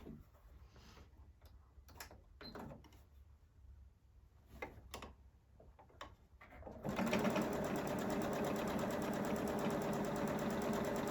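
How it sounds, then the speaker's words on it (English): A home sewing machine runs a quarter-inch seam along a fabric edge for quilt piecing: soft clicks and handling noises at first, then the motor starts and stitches in a steady, loud, rapid whir for the last few seconds. "you're just doing a 1/4 of an inch seam all the way down the edge and off the end"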